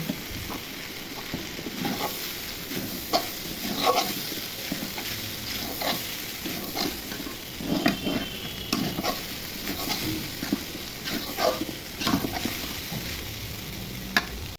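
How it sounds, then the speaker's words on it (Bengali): A bhaji of beans, potato and carrot fries in a pan, a steady close sizzle broken by repeated scraping and stirring strokes of a spatula, with no talking. "আর 5 মিনিটের মতো ভেজে ভাজিটা নামিয়ে নিব।"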